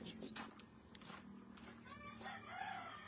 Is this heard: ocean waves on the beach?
no